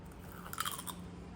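Crispy fried potato chips dipped in tomato sauce are bitten and chewed, a short cluster of close, quiet crunches over a faint background hum.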